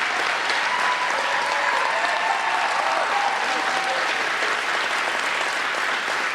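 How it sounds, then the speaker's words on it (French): A studio audience on Quebec reality TV gives a standing ovation, with steady, dense clapping that stays loud and even throughout and is mixed with faint crowd cheering. "Hey, t'as une ovation debout!"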